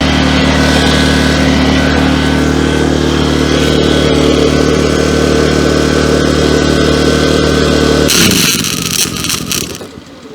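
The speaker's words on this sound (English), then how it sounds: "I'm using the little generator to run the welder, so it might be a little tough to hear" A small portable generator runs outdoors powering a welder, a steady loud engine drone with strong low harmonics that holds for about eight seconds, then shifts abruptly to a rougher, noisier tone before easing off at the end.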